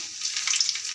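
Ingredients for a South Indian thuvayal frying in a pan, a brief, soft, steady sizzle with faint crackles, close up and alone.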